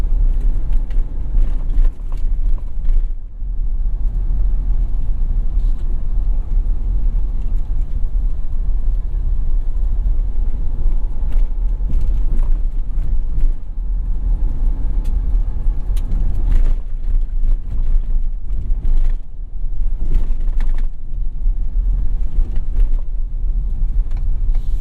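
A 2017 Ford F-250 Super Duty 4x4 drives off-road, its engine a deep steady rumble heard from inside the cab, with scattered knocks and bumps from the rough ground.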